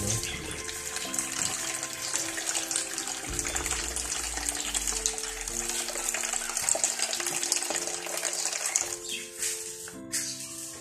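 Water runs and splashes steadily into a pot while cooking Filipino pansit palabok outdoors in a backyard, a moderate continuous gush with background music playing throughout.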